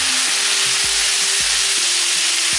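Fruit fries with sugar in a pan with a loud, steady sizzle, while a utensil scrapes and knocks against the pan in an uneven rhythm.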